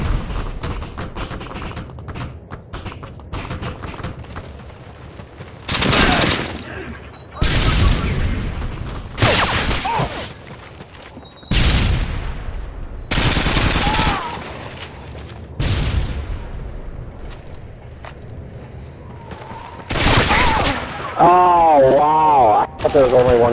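Gunfire in a Modern Warfare 2 Search and Destroy match on the Trailer Park map, sharp shots and thumps recurring in bursts over steady game ambience, with talking throughout.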